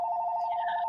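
A phone rings in a store, one steady electronic ringtone tone held close and clear through the whole short moment, with brighter warbling overtones rising near the end.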